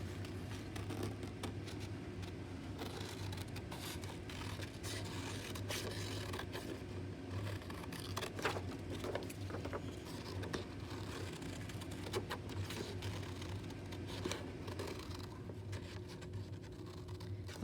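Scissors cutting out a paper pumpkin picture, soft close-up snipping and paper scraping with faint rustles, a continuous quiet texture with occasional sharper cuts.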